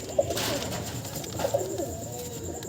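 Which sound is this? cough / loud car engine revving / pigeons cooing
pigeons cooing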